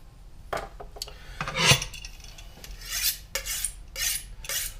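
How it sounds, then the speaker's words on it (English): A kitchen knife is honed with a run of rasping metal strokes, some short and some drawn out, each loud and close in a quiet room with no talking. "While I hone my knife."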